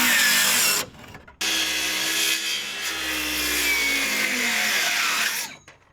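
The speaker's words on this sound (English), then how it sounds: "So this is the last screw that we have to pull out." A power drill backs the last screw out of a wooden gate: a loud, close, sustained whirring grind lasting several seconds, broken by one short pause, then winding down.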